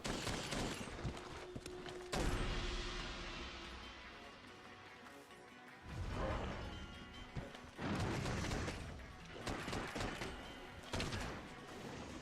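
Light bowgun in Monster Hunter World firing in rapid volleys of sharp shots with mechanical reload clicks and booming impacts, in several dense bursts separated by short pauses, heard over game effects.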